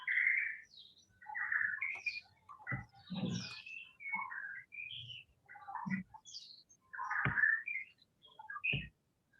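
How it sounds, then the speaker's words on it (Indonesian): Several birds chirping and calling in short bursts from a quiet background, fairly faint and spaced out, with no talking over them. "yang terdengar suara burung kayaknya di background itu"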